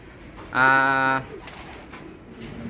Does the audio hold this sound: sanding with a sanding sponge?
no